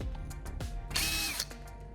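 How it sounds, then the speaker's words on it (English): A handheld power drill fitted with a freshly sharpened bit bores into an aluminum bar, whirring in short bursts and then rising into a loud, steady grinding cut before it stops; no talking. "I secure it back into my drill and then begin drilling into the aluminum bar."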